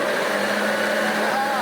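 A vintage 1980s Hoover Junior U1104 upright vacuum cleaner runs with a steady motor whine and a low hum, continuous and close for the whole stretch.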